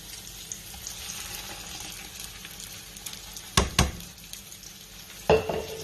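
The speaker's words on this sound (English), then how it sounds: "Onions are ready to have the sauce added to them" Canned tomato sauce poured into a pan of frying onions, garlic and browned meatballs, giving a steady close sizzle with watery splashing and a few sharp clatters of the pan.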